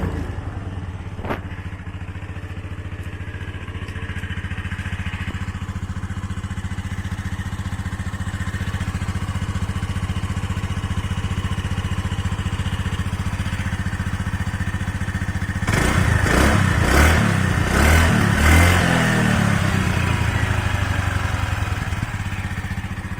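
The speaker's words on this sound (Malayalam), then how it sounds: "വണ്ടി ഒന്ന് സ്റ്റാർട്ട് ചെയ്ത് കാണിക്കും." A 2017 Honda Dio scooter runs at a steady idle for most of the stretch, then revs with a burst of louder clattering pulses near the end before settling back. No one speaks.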